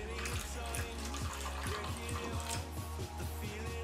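Tap water runs into a kitchen sink to thin a ketchup sauce, a continuous splashing flow with rapid repeated gurgles, close by and steady with no talking.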